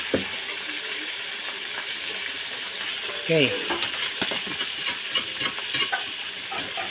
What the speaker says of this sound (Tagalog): prito kog isda guys para pamahaw isda